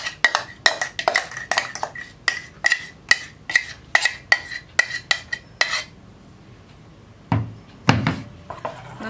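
A utensil stirs rice and coconut batter for palappam in a vessel, making a regular series of close clanks and knocks that stop partway through, followed by a couple of duller thuds.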